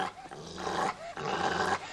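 A dog growls in low, rumbling bursts, two sustained snarls separated by brief pauses, close and fairly loud within a tense indoor scene.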